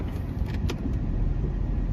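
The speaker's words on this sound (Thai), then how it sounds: "สตาร์ทเครื่องยนต์นะครับ เปิดแอร์นะครับตอนนี้เกียร์ P นะครับ" A Jeep WJ with the 4.0 engine, fresh engine and transmission mount bushings, sits in Park with the air conditioning on, idling as a steady low rumble after a brief click near the start.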